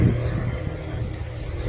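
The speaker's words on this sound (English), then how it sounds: "airport, so we get lots of airplanes here quite often." Low rumbling engine drone of an airplane flying near a small airport, a steady mid-distance roar without talk.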